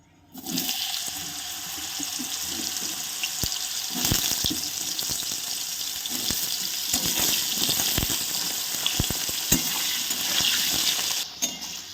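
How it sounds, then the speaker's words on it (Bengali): Radish pieces fry in oil for a Bengali labra of mixed vegetables. A steady, rushing sizzle fills the whole stretch, close and fairly loud, with scattered light knocks from a spatula moving through the pan. "এবার আমি মূলোগুলোকে ভেজে নেব।"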